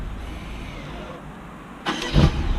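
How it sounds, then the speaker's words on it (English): A 2018 BMW 750i xDrive engine cranks and catches near the end after a quiet stretch of low background hum, a short burst of starter noise rising into running sound. "now we're going to start it. Engine start."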